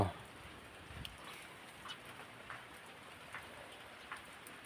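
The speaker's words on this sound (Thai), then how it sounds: "บ้านลุงอ้วนฝนตกครับมือนี้" Steady rain falls outdoors at a rural home on a cold evening, a soft continuous hiss with scattered louder drip taps, faint and even throughout.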